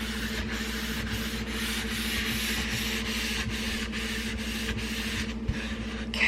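A cloth rubbing oil into a wooden cutting board, a continuous close swishing friction with a regular back-and-forth pulse over a steady low hum, no voices.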